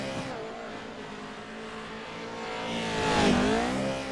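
A race car lapping in the JAT Pro 2L series, a steady engine whine that builds and sweeps past with a Doppler drop near the end, with tire squeal through the turns.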